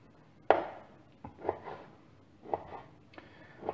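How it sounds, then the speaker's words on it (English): Pork being chopped into bite-sized chunks with a knife on a cutting board: five sharp, close chops come at uneven intervals against a quiet background. "chopping up your pork"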